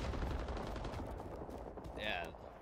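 Rapid automatic gunfire in Rising Storm 2: Vietnam crackles in a dense, loud burst throughout, with a short high-pitched tone near the end.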